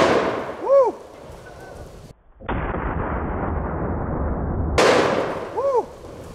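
A heavy 45-70 caliber rifle shot strikes a watermelon target outdoors: one loud, sharp blast with a long rolling echo, followed by a second crack and its rumble a few seconds later, with no talking.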